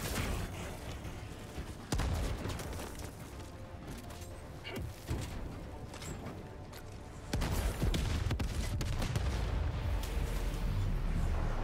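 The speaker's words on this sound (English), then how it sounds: "Throwing grenade!" A grenade blast in Helldivers 2 lands amid a dense in-game firefight: heavy booming bursts and rolling explosions over continuous gunfire and battle noise, loud and sustained.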